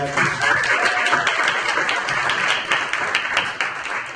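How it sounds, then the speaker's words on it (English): An audience at a law enforcement and citizen relations colloquium claps for a panelist, a brief, even wash of applause at moderate loudness with no pauses. "Let's give a nice round of applause to Emery"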